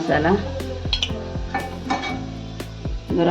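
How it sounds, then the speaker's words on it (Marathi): Spoon scraping and clinking against a cooking pot while coriander powder is stirred into a green pea curry, a rhythmic series of close metallic knocks and scrapes with no voice. "धना पावडर ढवळून घेऊया"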